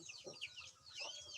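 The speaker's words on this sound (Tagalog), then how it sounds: "May manok." A chicken clucking softly a few times at a distance, with faint chirping birds in the background.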